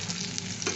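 Round slices of bitter gourd frying in a pan with oil, a dense, steady sizzle heard up close for under a second with no voices.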